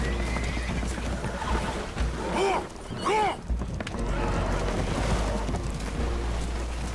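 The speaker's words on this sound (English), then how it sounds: "Horses are spooked" Spooked horses whinny in two short shrill neighs amid constant rumbling noise of water and a damaged boat in Red Dead Redemption 2, the calls rising briefly above the steady background roar.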